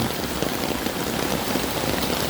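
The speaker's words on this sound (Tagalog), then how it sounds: "tuloy-tuloy pa rin ang ulan hanggang ngayon" Heavy typhoon rain pours steadily during flooding in Manila, a dense, unbroken hiss of drops hitting surfaces, loud and close with no pauses.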